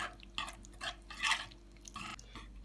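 Yogurt, an egg and two spoonfuls of flour being stirred together in a cooking pot, giving soft scraping, sloshing strokes in a loose rhythm, close and fairly quiet with no talk.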